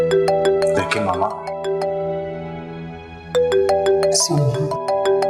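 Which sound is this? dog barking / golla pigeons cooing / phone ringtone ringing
phone ringtone ringing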